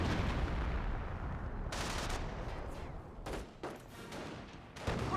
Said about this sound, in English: Mortars were raining a little bit short.